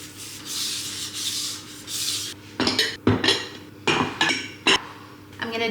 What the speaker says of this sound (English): We're going to whisk that all together.